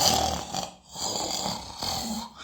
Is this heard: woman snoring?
yes